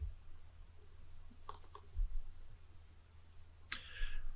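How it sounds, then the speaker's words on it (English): A computer mouse gives a few sharp, isolated clicks, a quick pair and then a single one, faint against a quiet background hum. "I'm going to right-click on Devices, and I'm going to click Scan"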